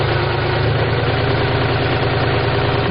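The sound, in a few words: tractor engine running during rpm test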